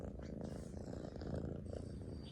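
A cat purrs continuously up close, a soft, steady rumbling drone with a faint rhythmic pulse and no voices over it.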